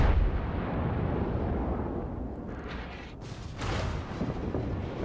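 Heavy naval gunfire from battleship and cruiser guns in World of Warships, a continuous rumbling barrage of booming blasts with a brief lull near the middle before the firing swells again.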